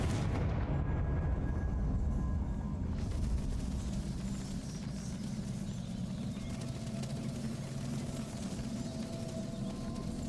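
A Confringo blast spell fired in Hogwarts Legacy on PC, a dense booming burst of game explosion noise that rumbles on steadily at loud level through the whole stretch.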